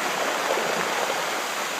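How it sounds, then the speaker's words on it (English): Fresh-water creek flowing near a beach on a coastal hike, a steady close rushing hiss of running water with no breaks and no voices. "there's a creek with fresh water right there"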